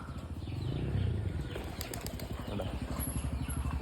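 Pigeons raised free-flying beat their wings in flight, a soft rapid flutter of flapping that swells and fades nearby, with faint background hiss and no talk.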